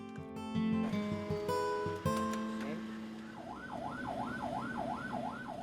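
Ambulance siren wailing in a steady rising-and-falling pattern, moderately loud, emerging after a busy mix of horns, engines and other tonal sirens in a town street as a patient is transferred from a boat.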